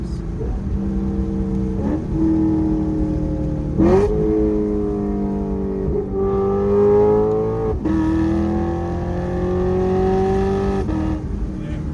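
Lexus RC F V8 engine blipping and rising through downshifts, with crackling bursts at each shift and sustained loud revving up close, steady and unbroken.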